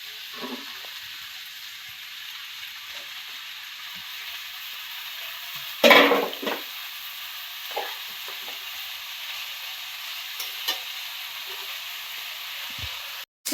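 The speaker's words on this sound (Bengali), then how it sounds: "পটলের সাথে মাছের তেলটা ভেজে নেব" Pointed gourd fries in fish oil with a steady, moderate sizzle, broken by a sharper burst of hissing and a few stirring scrapes partway through, without any talking.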